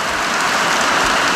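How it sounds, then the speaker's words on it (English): Rain falls steadily and densely on the stone stairs leading to Sekumpul Waterfall, a close, continuous patter with no voices. "it started fucking raining"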